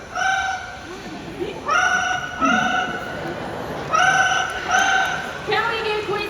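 A parrot mimics a telephone ringing at a bird show, giving repeated electronic-sounding trill bursts in a ring-ring rhythm, fairly close and clear, with some crowd murmur beneath.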